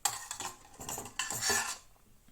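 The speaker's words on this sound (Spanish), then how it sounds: "vamos a cogerlas con una cuchara que están hirviendo," A spoon scrapes and clinks against a metal pot while scooping boiling horse chestnuts, several close, bright metallic knocks and rattles in an irregular rhythm, fading toward the end.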